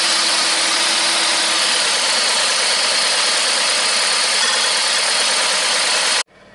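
A Toyota Camry engine with a faulty ignition coil idles roughly and shakes, giving a steady, loud, uneven running drone that carries on alone for about six seconds, then cuts off abruptly.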